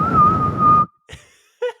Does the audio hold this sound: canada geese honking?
no